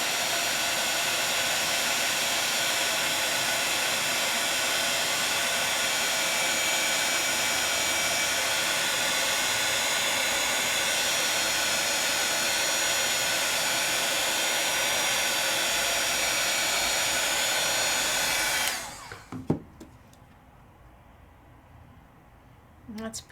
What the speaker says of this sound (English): And as I see it turn, I'm moving my heat tool.